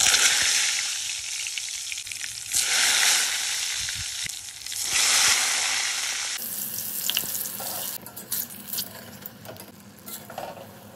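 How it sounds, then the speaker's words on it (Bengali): Brinjal slices frying in oil, a strong close sizzle for the first half, then a changed, quieter scene with clattering, running-water-like noise and intermittent clicks. "এইবারে আমি কিছু বেগুন ভেজে নেব।"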